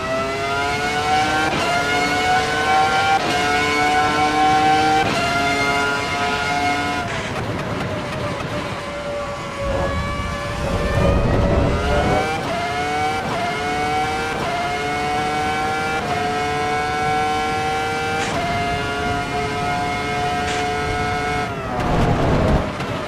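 V10 race car engine in Assetto Corsa Evo, loud and close, with rising revs through the gears, sharp upshift breaks and a dip under braking, the howl continuing steadily throughout.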